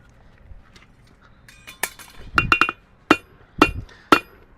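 Blacksmith's hammer striking iron during a forging demonstration, with a few sharp metallic clangs after some softer handling noise, then spaced ringing blows at a steady pace, close and loud.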